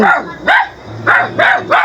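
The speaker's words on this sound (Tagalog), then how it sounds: "Galit yung aso" A dog barks angrily at a house, giving four loud, close, sharp barks in an uneven rhythm with short pauses between them.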